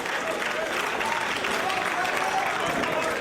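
Wrestling arena crowd cheering and applauding, a steady dense wash of clapping and roaring voices from a large audience.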